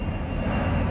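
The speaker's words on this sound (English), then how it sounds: "Those airplanes, man, keep coming by." Airplane engine roaring low and steady as an aircraft passes overhead near an airport, a brief continuous drone heard close with no voices.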